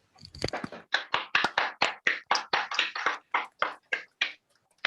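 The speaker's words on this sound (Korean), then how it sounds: "박수로 황수영 선생님을 모셔보도록 하겠습니다" Sparse clapping from a few online attendees unmuted to welcome a lecturer at a talk, with roughly a dozen distinct, evenly spaced claps ringing out close and clear, no voices over them.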